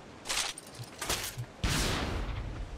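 FatMan nuke launcher shots in the ARK video game, with three broad whooshing blasts. The last is a heavy boom whose rumble lingers to the end, and no voices are heard.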